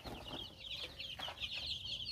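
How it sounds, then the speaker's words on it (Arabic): Several chickens cluck softly in a coop, with short scattered calls rising over a steady low background hum, fairly quiet and with no voices. "واوريكم باقي الفراخ ان هي ما شاء الله كلها طاقه وحيويه ونشاط"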